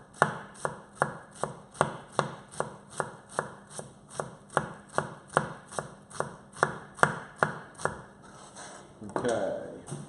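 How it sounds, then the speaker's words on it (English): A knife chops an onion finely on a board: a brisk, steady run of sharp, evenly spaced knocks, close and clear, ending in a softer scraping rustle. "Just chop the onion nice and fine."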